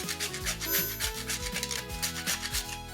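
Nutmeg grated by hand over a tiki cocktail, a quick steady run of scratchy rasping strokes, close and fairly quiet, with no talking.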